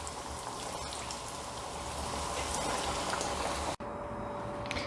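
Chicken cutlets fry in butter in a pan, giving a steady, dense crackling sizzle heard close up, with one brief dropout near the end.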